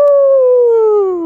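A person imitates a wolf howl with one long, loud, steady tone that slides slowly downward in pitch, heard alone and close.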